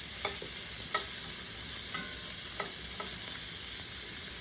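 Chopped white or yellow onion cooks in a pan with a steady, moderate sizzle, broken by a few faint scraping taps of stirring at irregular intervals, with no talking.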